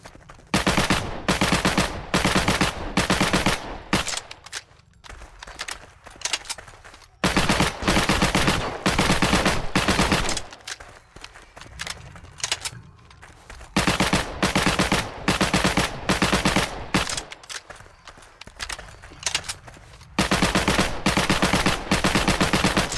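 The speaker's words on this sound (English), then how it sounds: "So yeah, these are the 3 starter SMGs. So for now, these are the 6 sounds which we will be replacing." Three starter submachine guns in the Heroes & Generals game fire in turn, loud close bursts of rapid automatic fire separated by short pauses, with no talk over them.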